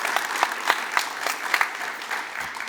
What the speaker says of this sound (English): A nice round of applause for our newest members of the National Honor Society.